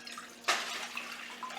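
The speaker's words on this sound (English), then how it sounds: "The first thing we need to do is to add our water to our pot." Water for garlic dill pickle brine is poured into a pot, starting with a sudden splash and then a steady, moderately close trickling flow with no one talking.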